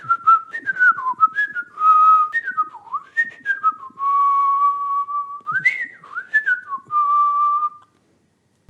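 A person whistles a warbling, birdlike melody in imitation of a nightingale, with clear solo phrases of sliding and trilling notes separated by short pauses, close and fairly loud.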